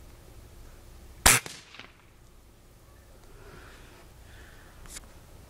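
A Gamo Big Cat 1200 air rifle fires a single sharp, loud crack in a backyard, followed by a short fading tail, with a faint smaller knock a few seconds later.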